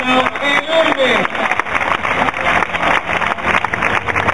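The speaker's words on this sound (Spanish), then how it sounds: "vamos a pedir un fuerte aplauso para esta gente que ha estado enorme" Crowd at a Basque recortadores event in Amurrio applauding and cheering the competitors, a sustained wash of clapping that begins under a loud announcer's voice and carries on to the end.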